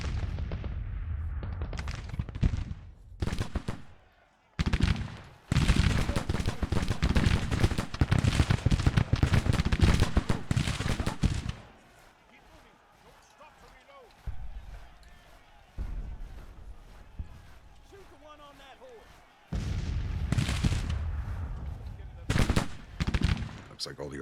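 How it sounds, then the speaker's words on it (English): Artillery and rifle fire in Grand Tactician: The Civil War, with dense rolling volleys and cannon booms in long loud stretches, then a quieter lull before heavy firing resumes, as a voice talks between the bursts. "Looks like all the artillery fire is getting to these boys."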